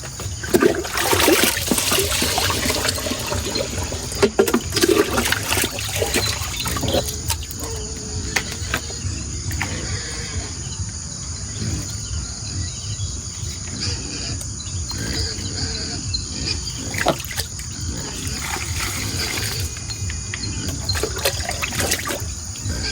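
Continuous trickling and splashing of water being poured into a container on a farm, with a steady hiss and faint chirping in the background.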